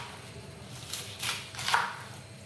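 Knife chopping vegetables for food bank produce, three soft separate cuts against a board at a relaxed, uneven pace, close but quiet over a low background hum.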